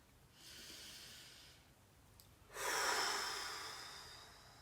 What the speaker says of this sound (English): breathing in through our nose and out through our mouth